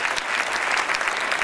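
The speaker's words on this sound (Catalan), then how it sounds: "Un aplaudiment molt gran per tots els altres que s'han quedat sense premi" Steady, dense applause from an audience at a national paper dress contest award ceremony, even clapping throughout without voices standing out.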